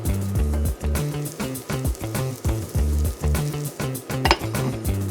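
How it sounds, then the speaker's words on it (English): Broccoli mixture fries in vegetable oil in a covered pan, with a steady sizzle under repeated clinks and rattles of a pan or lid, close and moderately loud. "Fry under the lid for 7 minutes."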